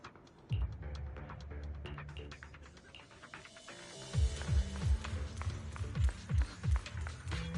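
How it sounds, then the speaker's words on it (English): Belle's footsteps in the video game Zenless Zone Zero, a close series of soft thudding steps in a quick rhythm, rising in a louder burst near the end. "I can finally hear Belle's footsteps again"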